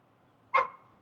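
A dog barks once on command, a single short close bark over a quiet room background.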